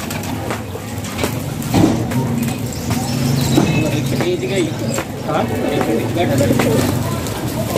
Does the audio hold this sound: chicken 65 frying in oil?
no